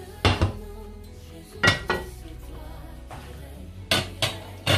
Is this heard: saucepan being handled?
yes